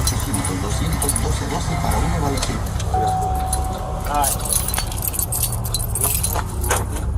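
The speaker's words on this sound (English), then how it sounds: "Give me the car keys." Car keys jingle metallically as they are handed over during a tense police traffic stop, heard over a steady rumble of road and engine noise with voices talking nearby.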